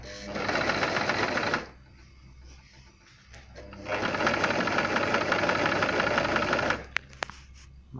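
A Brother LS 2200 sewing machine stitches with a straight stitch in two loud, steady bursts of rapid needle clatter, separated by a short quiet pause, with faint clicks near the end.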